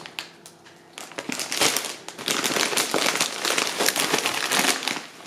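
A plastic shopping bag from an Esselunga grocery haul crinkles and crackles continuously as it is unpacked, loud and close, with dense irregular rustling bursts and no talking.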